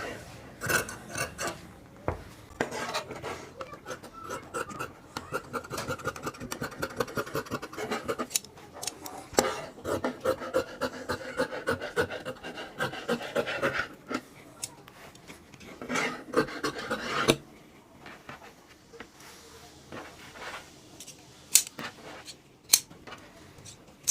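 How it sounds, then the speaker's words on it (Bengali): Scissors cut fabric along a marked margin while making a kameez: steady close snipping and rasping blade strokes that run continuously, then give way to a few sparse, separate snips near the end. "তো দেখেন এইভাবে মার্জিন করার পর আমাদের মার্জিন বরাবর কেটে নিতে হবে।"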